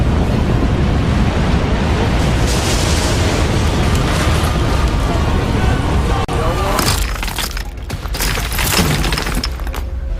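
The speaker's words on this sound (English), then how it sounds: "violent power has already awakened volcanoes that have been dormant for hundreds and thousands of years" Volcanic eruption explosions from an awakening volcano: a loud, continuous roaring blast of deep rumble and crackle that thins out later into scattered sharp bursts and pops.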